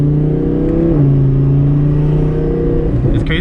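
Audi R8 with doubled horsepower accelerating while driving, its engine a steady, loud, close drone with a clear pitch that drops at a gear change and then climbs again, with no talk over it.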